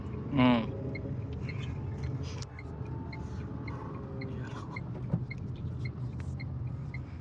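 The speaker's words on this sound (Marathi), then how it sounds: "कार चालू आहे." A car engine idles in a low continuous rumble from inside the vehicle, with a short loud vocal burst at the start and small clicks and ticks over the hum, on a night drive in Pune.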